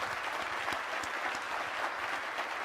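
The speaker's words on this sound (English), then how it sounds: "Round of applause, please." Audience applause after an onstage conversation with Alphabet CEO Larry Page, a steady dense clapping that fills the whole stretch at even loudness with no voices over it.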